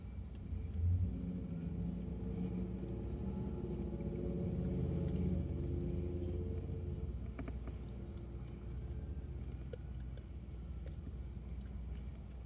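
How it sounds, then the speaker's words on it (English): Steady road traffic at the Wright Ave and Windmill Rd intersection, cars and trucks rumbling and accelerating in a continuous low roar with engine drone, fairly close and unbroken throughout. "it's pretty much non-stop vehicles"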